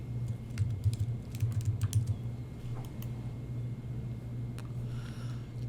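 Rapid keystrokes on a computer keyboard entering a short word into recipe inventory software, light clicks in bursts over a steady low hum, fairly near and quiet with no talking.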